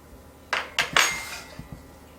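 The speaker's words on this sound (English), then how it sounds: "I'm going to take a fork and seal the ends just like that" A fork presses and crimps the edges of empanadas, giving three quick metallic clinks against a plate or board, then two softer taps, close and alone.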